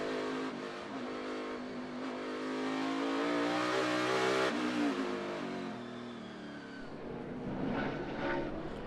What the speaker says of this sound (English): almost having to lift off the throttle to keep from over revving. Second gear right there.